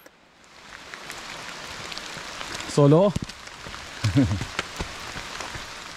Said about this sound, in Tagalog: Kaya naman makikita nyo nagsisimula na talagang lumakas yung ulan.